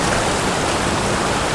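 A tiny creek flows with a steady, close, full rush of water that stays constant throughout, with no voices.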